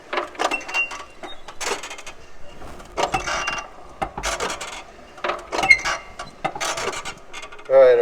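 An antique engine at a truck and auto museum is turned over by a hand crank. Its mechanism clatters and rattles in repeated uneven bursts with short pauses between.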